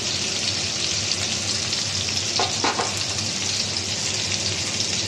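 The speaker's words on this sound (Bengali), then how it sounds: "তো আমড়াগুলো একটু ভালো করে ভেজে নেব" Hog plums frying in a pan with salt and turmeric, a dense constant sizzle with a brief burst of stirring or spattering midway, loud and close with no talk.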